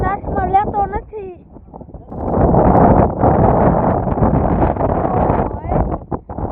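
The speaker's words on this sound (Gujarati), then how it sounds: "અહીંયા પવન આવે છે મસ્ત એક નંબર." Wind gusts over a hilltop temple at Kadamgiri, buffeting the microphone in a loud, rushing roar that follows a short burst of someone talking.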